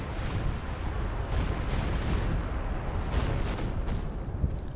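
Artillery pounds in a Company of Heroes 2 match with continuous, rumbling booms and blasts. Dense, heavy impacts roll on without a break, loud and close, and nobody speaks.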